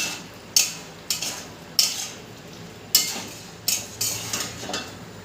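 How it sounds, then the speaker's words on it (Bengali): Spoon stirring spice paste through fried potatoes and pointed gourd in a pan, a clattering scrape repeated about every second with a light sizzle beneath, close and alone. "আলু আর পটলের সাথে মশলাটাকে খুব ভালো করে মিশিয়ে নেব।"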